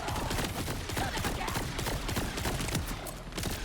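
Steady, dense gunfire in the Borderlands 4 video game crackles in continuous rapid bursts, loud and close, layered with other combat noise and no clear speech.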